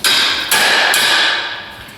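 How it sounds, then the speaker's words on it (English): A hammer strikes the metal wedge blocks on a Kubota BX24 tractor three times, loud and close. Each sharp metallic clang leaves a long ringing tail. "I'm going to whack it one with a hammer."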